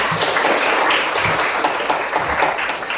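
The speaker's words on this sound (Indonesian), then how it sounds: "minta tepuk tangannya untuk dia" Classmates in an Indonesian language lesson clap for a student, a dense, steady patter of many hands close by, lasting a few seconds with no talking.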